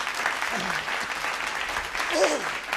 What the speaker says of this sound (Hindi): समाप्त हो गई है, तालियां बजा सकते हैं।